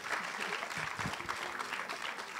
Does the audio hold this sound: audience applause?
yes